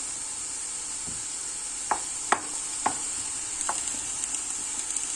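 Finely chopped onion fries in olive oil and butter with a steady hiss, while a spoon scrapes and taps the pan a handful of times.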